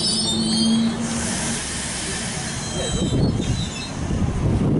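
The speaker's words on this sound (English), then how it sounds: "is now departing platform number 1, Central via Chatswood service." A suburban train pulls away from platform 1 at Wahroonga station, a steady loud rumble with a brief wheel squeal early on and a hiss, building again as it departs.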